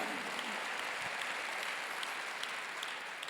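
A church congregation at a seminary graduation service bursts into sustained applause, a thick, constant rush of many hands clapping together with no talking over it.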